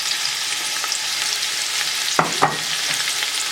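Finely sliced onions with ginger and garlic sizzle and fry over high flame in a pan, a constant close hiss with a couple of sharper stirring scrapes partway through.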